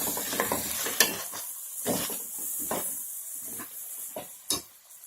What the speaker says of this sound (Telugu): ఇప్పుడు ఇందులో మనం కట్ చేసి పెట్టుకున్న టమాటాలు వేసుకుందాం.